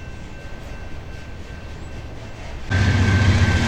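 A BNSF intermodal freight train rolling past a road crossing, a steady low rumble with a faint tonal whine, swelling abruptly louder near the end as the cars draw closer.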